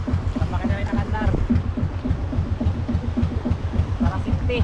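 Single engine of a fishing boat running at sea in waves, a low steady throbbing drone with people talking over it throughout.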